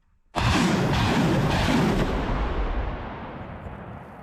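A single missile launch at Russian positions in Ukraine, heard as a sudden loud boom that hits sharply and then rumbles into a long roaring tail fading over several seconds.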